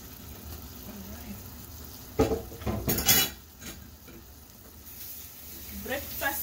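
Egg frying in a hot pan, a steady close sizzle running throughout with a brief burst of louder clatter and crackle partway through, then settling back to a quieter hiss.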